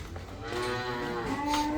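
A cow lowing on a livestock farm where dairy cows and calves are kept, one long, close moo rising in pitch over quiet background.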